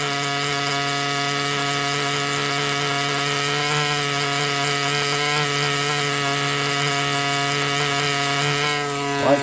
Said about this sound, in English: to speed things up with the grinder, I'm simply just going to use the side of the tip to take that off of there